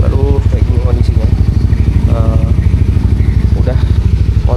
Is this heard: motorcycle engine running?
yes